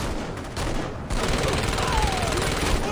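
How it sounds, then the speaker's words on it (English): Sustained SMG gunfire in the Saints Row video game, a dense, continuous rattle of rapid shots that holds steady and close for the whole stretch with no pauses or voices. "I'm just wasting SMG ammo at that point"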